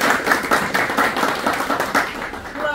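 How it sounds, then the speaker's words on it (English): A modest audience at a physics teachers' association gathering claps for a presenter, brisk uneven hand claps from a small crowd that keep a steady level throughout the short burst. "let's give her a round of applause, please."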